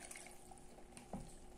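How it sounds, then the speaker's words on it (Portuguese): Water splashes faintly as two cups are poured into a bowl while preparing a prebiotic salad dressing, a quiet, trickling liquid sound with a brief splash near the end. "vamos colocar dois copos de água"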